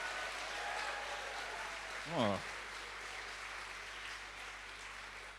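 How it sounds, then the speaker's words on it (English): Moderate applause from an audience at a science comedy show, a steady, fairly quiet wash of clapping lasting throughout, with one brief spoken exclamation cutting in midway. "Could you give me a moderate amount of applause?"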